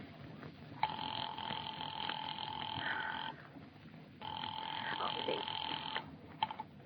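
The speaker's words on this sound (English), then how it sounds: "Ringing the police department." A telephone in an old radio drama rings while a call goes through to the police department: two long, loud electric ring bursts separated by a pause, then a brief third jangle.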